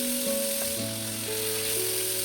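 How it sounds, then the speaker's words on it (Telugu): Chicken drumsticks fry on a tawa over a medium flame, giving a steady, close sizzle with no talking, while sustained musical tones sit beneath it. "మీడియం ఫ్లేమ్ మీద ఫ్రై చేసుకుంటుండాలి."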